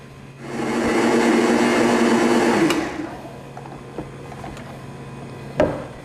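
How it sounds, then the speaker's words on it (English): A kitchen blender pulses a mixture in one loud, close whirring burst of about two and a half seconds, which then cuts off, followed by a few light clicks and knocks. "Now we're going to go over to the base of the blender and we're going to pulse this until we mix everything"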